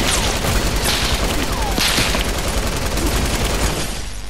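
Light machine gun in Fortnite firing continuous rapid bursts, loud and close, a dense rattling stream with distant blasts, with a player's voice faintly in the mix.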